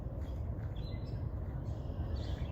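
Several birds call in a wetland along the Cowles Bog Trail, faint thin chirps scattered over a low rumbling background, fairly distant and quiet with no talk.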